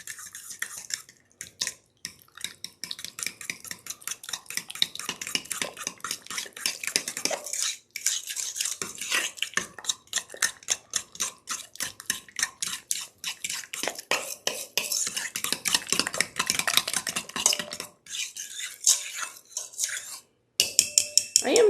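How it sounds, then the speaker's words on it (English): Three eggs beaten in a bowl make rapid, continuous clicking and clattering as the utensil strikes the sides, with only a few brief pauses. "add in the 3 eggs and mix those up"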